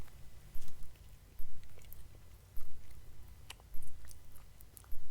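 Someone eats a Wendy's jalapeno chicken popper sandwich with chicken breast, jalapeno cream cheese, pepper jack, applewood bacon and cheddar, chewing close up in repeated moist bites with soft smacking over low background hum.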